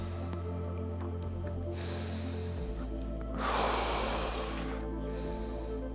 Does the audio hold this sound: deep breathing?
yes